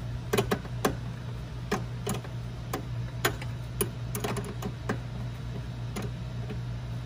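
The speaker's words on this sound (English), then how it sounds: "Hand tighten, and then finish off with the wrench so that it's nice and snug." A wrench tightens the nut on a 12-volt battery terminal in a Toyota Prius, giving a run of sharp, irregular metallic clicks and ticks over a steady low hum.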